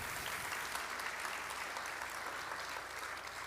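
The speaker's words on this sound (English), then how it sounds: "They should get applause." A church congregation at Advent UMC applauds its mission leader team with steady, full clapping that fills the room evenly from start to finish.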